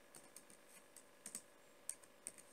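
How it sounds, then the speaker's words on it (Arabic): Faint, sparse keystrokes on a computer keyboard click at an irregular pace, a few soft taps with brief gaps between them in a quiet room. "فأضغط space وأبدي أكتب العبارة اللي أنا أريد أكتبها"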